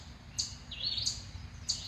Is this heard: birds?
yes